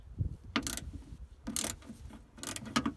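Small close metallic clicks and ratcheting taps from bolts being loosened on the boot latch mechanism of a 1981 Volvo 345, irregular and quiet.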